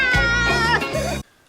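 A single cat meows, one drawn-out cry that comes through loud and close before cutting off into silence.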